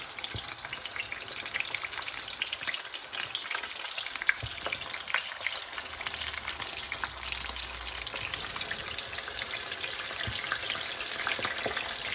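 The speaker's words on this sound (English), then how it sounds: "Then I'm going to put all the karelas in to fry." Stuffed karelas fry in very hot oil in a pan, giving a loud, steady, dense sizzle that fills the whole stretch without any voices.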